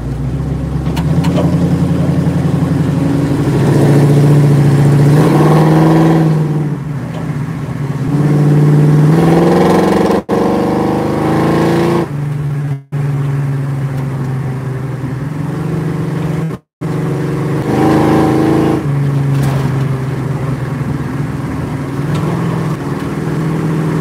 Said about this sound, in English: Gotta love a small block Chevy.